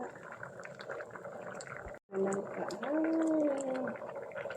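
A jackfruit dish boils in a cooking pot with a steady bubbling, gurgling wash that drops out for a moment, then resumes alongside a brief tonal whine and faint clinks.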